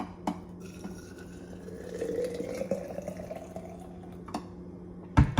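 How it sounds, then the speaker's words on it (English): Hot water poured onto steeping herbs for tea, a soft rising trickle filling a container, quiet and close, with a faint clink near the end. "I'm gonna pour some more of that hot water on after I close up these herbs"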